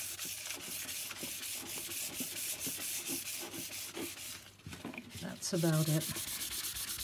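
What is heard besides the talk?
sanding a cured resin layer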